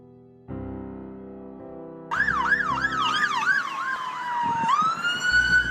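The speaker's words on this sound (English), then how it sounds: "Ambulances blowing by and every available police unit called to Newtown" Sirens from ambulances and police cars speed past on Interstate 84 West near Newtown. A steady horn tone changes to a loud wailing yelp as vehicles rush close by, with road noise underneath.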